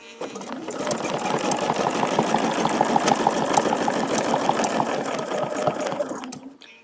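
A sewing machine stitches quilted feathers around a template. Close, steady, fast needle chatter continues for about six seconds, then stops.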